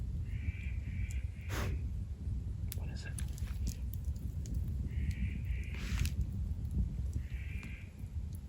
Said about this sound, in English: Hear the bird? It's a birdie.